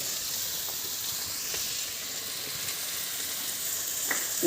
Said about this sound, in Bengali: রান্না করছি বাঁধাকপি আর এই যে পটল, আলু পটল, আলু পটল আর এই বাঁধাকপি, তো এই রান্না করছি